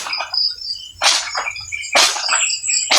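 Birds call in the countryside with bright, short chirps and squawks that come in several separate bursts, close and fairly loud over a quiet background.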